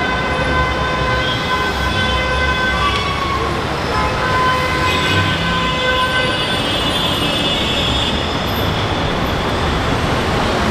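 A metro train runs at Jhandewalan metro station, a loud continuous rolling rumble with tonal whines and squeals as it passes close by, heard under street noise.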